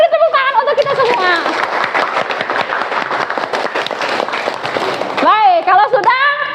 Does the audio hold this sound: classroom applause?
yes